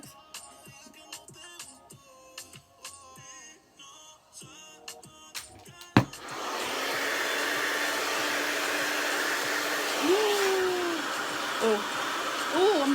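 Hair dryer switched on partway through, blowing loudly and steadily with an even rushing whine, after a stretch of quieter clicks and rustling, with a voice heard briefly over the airflow.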